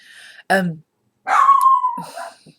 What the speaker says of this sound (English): the UPS man came, so Annie's probably going to bark